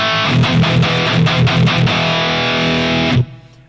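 A loud, distorted electric guitar through a T75 speaker cabinet on an Axe-Fx III MKII plays a chugging rhythmic riff, then a held chord that cuts off abruptly near the end.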